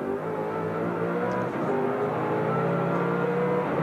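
A Ford Falcon touring car at the 1993 Bathurst 1000 powers out of Forest Elbow, its engine note rising steadily and loud up close, with a brief shift partway through.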